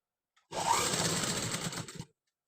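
A sewing machine stitching a sleeve seam in one steady close-up run of about a second and a half, with quiet before and after.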